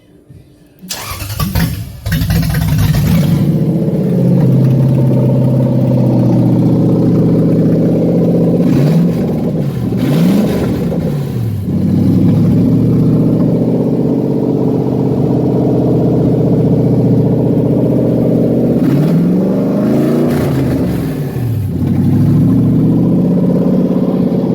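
A Toyota 1UZFE V8 engine cranks and catches, then runs loud and close at a steady rumbling idle, with a few blips of revving that swell and settle back down.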